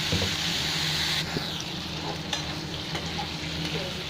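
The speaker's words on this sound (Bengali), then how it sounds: "গ্যাসটাকে কমিয়ে দিয়ে ভালো করে ভেজে নেবো।" Steady sizzling of pointed gourd (potol) frying in hot oil, with occasional stirring scrapes and soft pops, close and continuous.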